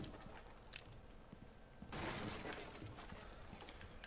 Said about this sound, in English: I'm shooting right at this laptop.